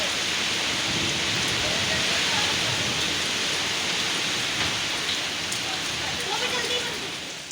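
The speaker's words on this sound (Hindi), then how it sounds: "बारिश फिर होना शुरू हो गई है, तेज़ बारिश हो रही है। ये देखें हवा भी बहुत तेज़ चल रही है।" Heavy rain pours steadily with strong gusting wind, a dense continuous roar that stays loud throughout and eases slightly near the end.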